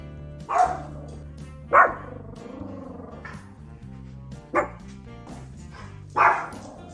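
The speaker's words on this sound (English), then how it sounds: "We were interrupted by the dogs who will be judging our bake later" Several dogs bark in four loud, separate bursts about a second or two apart, close by, with low background hum between them and no talk.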